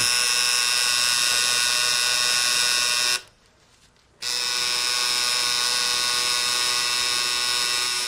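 Electric tattoo machine buzzing steadily and loudly while shading ink into skin, cutting out for about a second midway before resuming the same continuous drone.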